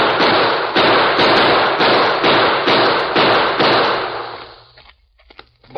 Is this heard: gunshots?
yes